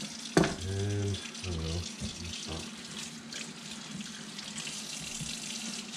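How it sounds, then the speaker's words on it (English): Cool water runs steadily from a tap at a sink while bluegill are being cleaned with a fillet knife, a soft continuous wash with a few faint splashes and someone talking over it near the start. "They have a little cool water running"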